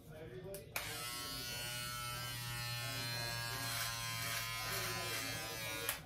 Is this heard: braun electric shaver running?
yes